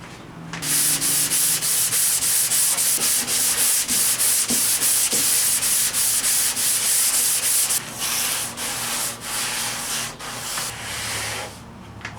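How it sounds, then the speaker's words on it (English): Continuous rhythmic scratching of sandpaper rubbed by hand back and forth on a Toyota AE86 Trueno body panel, close and loud, with a brief pause before the strokes resume. "So I just got to keep sanding"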